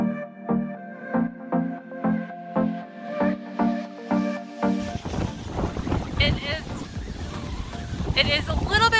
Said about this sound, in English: It is a little bit windy out here right now.